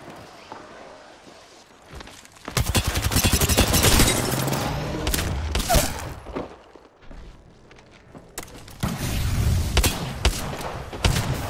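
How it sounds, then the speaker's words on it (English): Rapid bursts of gunfire and explosions in a sci-fi shooter video game match, loud and dense from about 2.5 seconds on, with a brief lull near 7 seconds before the firing resumes. "Getting shot at."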